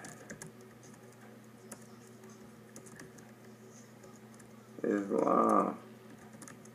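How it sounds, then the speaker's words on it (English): Quick, soft tapping on a computer keyboard in a room, a brief burst of keystrokes for under a second amid quiet background hum, with someone speaking faintly. "got somebody in the house typing."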